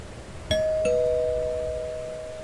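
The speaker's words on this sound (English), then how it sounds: "The doorbell again?" Doorbell ringing in the home invasion video game Suffer The Night, heard as a clear two-tone ding-dong with the second tone sustained and slowly fading over faint background hiss.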